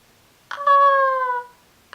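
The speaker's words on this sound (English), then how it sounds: "I got a kitten." A kitten gives one clear, close meow lasting about a second, with brief handling noises before and after in an otherwise quiet room.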